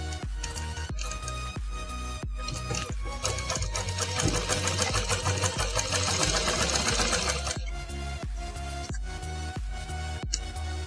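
A sewing machine sewing elastic into the waistband of a circle palazzo, close rhythmic stitching pulses with a faster, busier run in the middle before settling back to a steadier pace.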